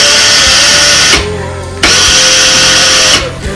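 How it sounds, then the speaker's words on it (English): A remote-controlled power drill runs loud and close in two long bursts. It stops briefly between them, and the sound cuts out again near the end. "Should be able to control the drill remotely."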